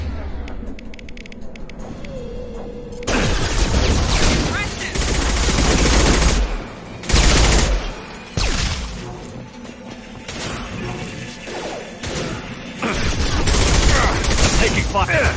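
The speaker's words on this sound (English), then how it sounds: "Taking fire!" Gunfire in the sci-fi shooter Mass Effect 2: bursts of rapid automatic shots and sharp impacts come in loud clusters between quieter gaps, with combat voices briefly heard.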